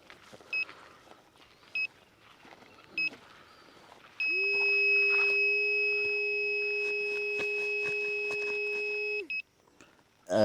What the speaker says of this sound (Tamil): இப்போ ஒரு அலாரம் மாதிரி வந்துச்சு சார் இப்போ நீங்கள் கேட்டிருப்பீங்க அந்த அலாரம் சவுண்ட்